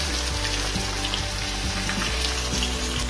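Fish fries in bubbling hot oil in a pan, giving a dense, steady sizzle that stays loud and even throughout with no voices.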